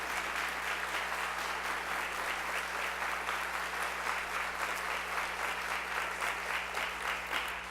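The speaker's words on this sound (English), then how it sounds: "Let's have a round of applause for her." Sustained applause from an audience at a Chicago Public Schools State of the Schools address, steady and dense throughout with no talk over it.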